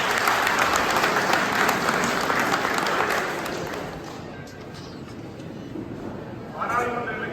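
A political rally crowd claps loudly and continuously, the applause thinning and softening midway, then swelling briefly again near the end.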